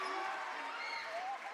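A crowd roars at a boys high school basketball game between Francis Lewis and Cardozo, a dense, steady wash of cheering and applause that fills the gym throughout and fades slightly at the end, with a commentator's voice likely in the mix.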